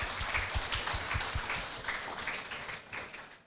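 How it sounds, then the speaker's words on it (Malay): Clapping from an audience at the opening ceremony of the Sabah Book Fair, a steady patter of many hands, fairly faint and distant, thinning toward the end. "Tepuk tangan untuk mereka berdua."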